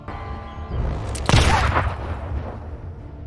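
A single sharp gunshot from a film cracks out loud and close, followed by a low rumbling decay over a dull background.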